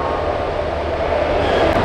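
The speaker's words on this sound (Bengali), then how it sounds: "অনেকক্ষণ অপেক্ষা করানোর পর 11:21-এ দেখুন ট্রেন ঢুকছে" The Digha-bound Kandari Express rolls into a station with a loud, steady low rumble and rattling wheels, close by and unbroken.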